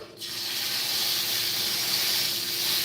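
Loud, steady sizzle of pot roast searing in a hot oiled skillet, a constant crackling hiss that starts abruptly and continues without pause.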